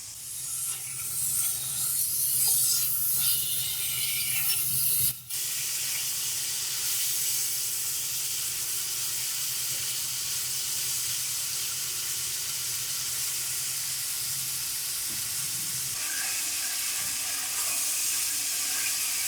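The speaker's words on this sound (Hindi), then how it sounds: "आधा किलो हमने मटन का गोश्त लिया है, ये ऐड करेंगे। इसको हम 7 से 8 मिनट अच्छे तरीके से फ्राई कर लेंगे।" Half a kilo of mutton frying in a pot over high heat, a steady loud hiss and sizzle that carries on throughout with a brief sharp clatter near the start.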